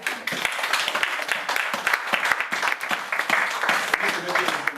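A church congregation claps in rhythmic bursts during a lively worship service, sharp hand claps layered over singing voices and crowd noise.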